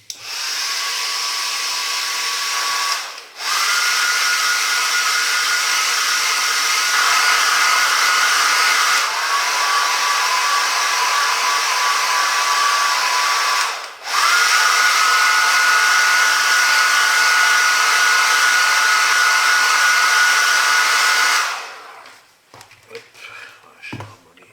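A heat gun warms a part of a Revell 1/24 Kenworth K-900 model truck kit, blowing with a loud, steady rushing hum for about twenty seconds, dipping briefly twice, then switching off to near silence.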